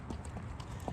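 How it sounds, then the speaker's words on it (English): Hooves of an 8-year-old mare clip-clopping in a steady walking rhythm while she is ridden outdoors on a sunny Arizona morning, close and fairly quiet. "And this morning, the horse that I'm riding is Goldie."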